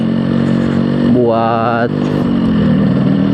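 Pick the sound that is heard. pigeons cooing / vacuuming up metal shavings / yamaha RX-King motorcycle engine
yamaha RX-King motorcycle engine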